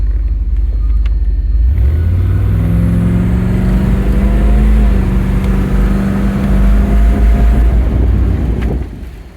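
A 1947 Cadillac resto mod drives on the road and shifts its automatic transmission, with a loud, close engine rumble that rises with acceleration, eases, then rises again, mixed with wind noise and no talk.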